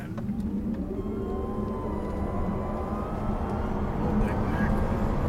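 A Tesla Model S Performance electric car accelerates hard on a test drive, a steady loud drone with rising whine held from inside the cabin for several seconds, with people talking over it.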